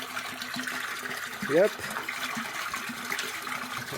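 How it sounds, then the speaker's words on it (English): Water gushes into a water tank from a freshly activated well, a steady, low, rushing flow heard faintly throughout, with a brief spoken reply partway through. "when we push this down, it should activate the well. We'll see some water coming in"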